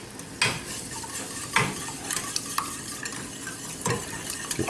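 Heavy whipping cream goes into a hot pan for keto bacon-wrapped chicken alfredo and is stirred, producing a soft continuous sizzle broken by repeated utensil scrapes and light clinks against the pan.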